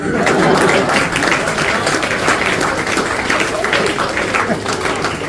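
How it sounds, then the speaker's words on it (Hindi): Audience applause at a kavi sammelan poetry recital, a dense, steady wash of many hands clapping with crowd murmur running through the whole stretch. "ये सब वही ताली बजा रहे जो ऐसा काम करते हैं।"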